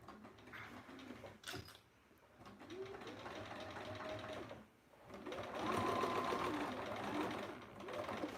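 A sewing machine stitches zipper pouches in a few short runs of whirring at low volume, stopping and restarting between them with faint handling noise in the quiet gaps.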